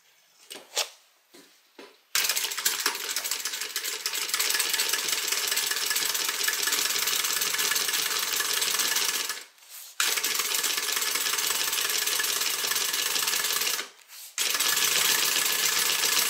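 A sewing machine top stitches a fabric beverage bag. After a few short starts it settles into a long, steady mechanical hum that stops briefly twice and resumes. The sound is close and continuous, and nobody talks.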